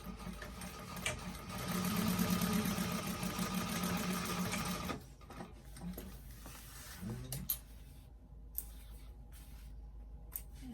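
A sewing machine top stitches a bag seam with a 1/8-inch allowance, whirring steadily at close range for about five seconds before stopping. Scattered clicks and light handling noises follow.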